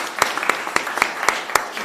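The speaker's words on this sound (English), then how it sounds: "can we just give Minister Malcom Noonan a huge round of applause for a minute" An audience at a biodiversity day gathering claps, with sharp sharp hand claps spaced roughly every quarter second standing out over a continuous patter of applause from a modest crowd.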